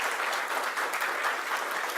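Audience applause steadily filling a room at a housing announcement in Buffalo, a dense, even wash of clapping hands that holds at a constant level without pauses.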